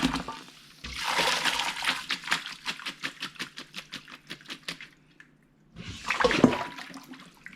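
Water from blanched cucumber poured off and draining, a rushing splash with rapid patter, a pause, then another short pour and splash, close by.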